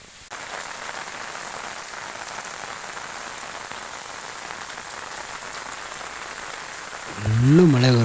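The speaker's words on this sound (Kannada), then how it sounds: "ಫುಲ್ಲು ಮಳೆ ಗುರು, ಸಖತ್ತು ಮಳೆ ಇಲ್ಲಂತೂ." Heavy rain pours down steadily at the Veerabhadreshwara temple in Keladi, a dense, even roar that holds throughout, with a voice briefly rising over it at the end.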